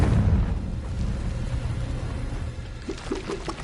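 A Confringo blasting spell in Hogwarts Legacy erupts into a loud, rumbling boom that fills the whole clip, with a heavy low roar that slowly fades.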